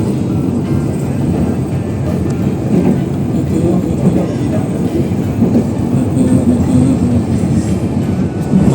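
A train rolls past Karanggandul station with a loud, close, unbroken rumble of wheels and rail noise throughout.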